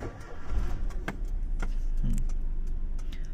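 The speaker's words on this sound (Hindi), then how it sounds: "इग्निशन ऑन कर देता हूँ इंजन ऑन कर देता हूँ" Maruti Suzuki Alto car being started with the ignition: a few sharp clicks and clunks of the key and controls over a low engine rumble inside the car, close and with no talk.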